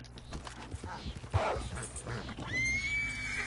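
A horse whinnies loudly at close range amid hoofbeats and background sounds in Red Dead Redemption 2, with a high sustained tone near the end.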